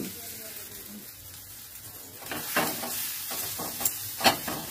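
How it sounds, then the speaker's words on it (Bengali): Ground green pea paste goes into a wok of crackling cumin. A quiet low background gives way to bursts of sizzling and spattering that grow louder toward the end. "যখন জিরেটা চটপট করে উঠেছে সেই সময় দিয়ে দেব গ্রাইন্ড করে রাখা কড়াইশুঁটিটা"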